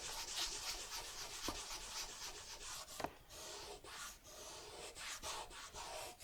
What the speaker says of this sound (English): We'll rub some grease on the rough out just to mat it back down.